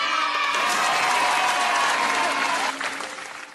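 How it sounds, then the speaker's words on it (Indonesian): Children clapping hands together in a primary school classroom, a dense burst of applause with a few voices mixed in, steady for about three seconds before tapering off. "Kita tepuk tangan lagi ya untuk kita semua."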